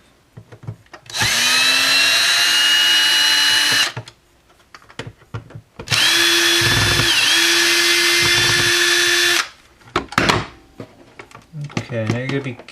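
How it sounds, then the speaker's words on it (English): Power drill backing screws out of a GFI wall outlet during a USB charger outlet swap, two sustained whining bursts of several seconds each, close and loud, with a short clatter of handling afterward. "You can save some time if you get yourself a drill."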